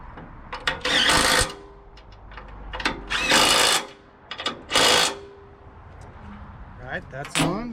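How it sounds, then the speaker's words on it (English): Power tool bolting a new relay valve onto a 1986 Kenworth W900B truck, several loud whirring bursts of about a second each with clanks between and a voice talking lightly in the background. "we're going to go ahead and bolt this up"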